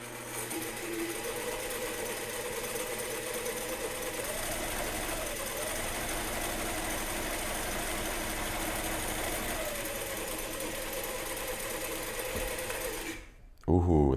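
A sewing machine stitches in a long, steady mechanical whir with a rapid needle chatter, running continuously before stopping abruptly near the end, with a voice talking underneath.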